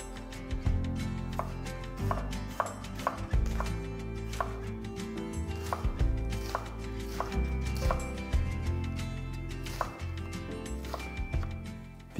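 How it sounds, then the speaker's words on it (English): A small red onion is sliced with a knife on a board, producing a steady run of crisp, close chopping taps at an even rhythm, quiet overall with no talk. "One small red onion, sliced."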